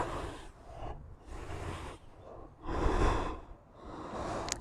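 A person breathes audibly during a power yoga session, with several slow, close inhales and exhales in uneven rhythm and faint background noise between them.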